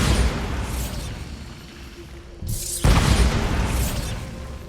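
A Bombarda spell blast in Hogwarts Legacy comes as a loud, rumbling burst after a brief lull, with debris noise and a heavy low roar continuing afterward.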